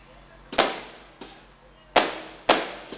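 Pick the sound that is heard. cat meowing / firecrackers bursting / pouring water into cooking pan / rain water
firecrackers bursting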